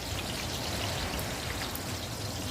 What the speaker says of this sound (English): Put the water in it, yeah?